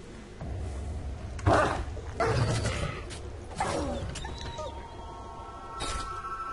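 Dog whining and wheezing in Wolfenstein: The New Order, a few hoarse rasping bursts over a steady mechanical game background hum.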